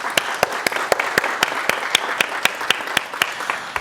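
A small audience at a patient and caregiver panel on living with a brain tumor applauds, with sharp individual claps standing out in a steady rhythm over a softer wash of clapping, moderately near and alone.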